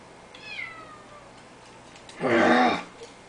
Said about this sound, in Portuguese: E a gata que tá miando.